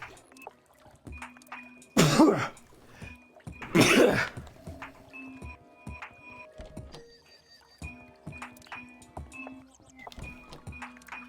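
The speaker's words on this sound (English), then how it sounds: "Good sneeze." A person sneezes loudly twice, about two seconds apart, each burst sharp and close, with faint game music and soft electronic tones continuing in the background.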